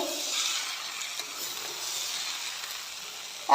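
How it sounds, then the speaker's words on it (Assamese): Rice grains roasting in a pan on a home stove give a steady, fairly faint dry sizzle and hiss throughout, with a sudden louder noise right at the end. "এয়া মই ভালকৈ ভুনি ল'লোঁ"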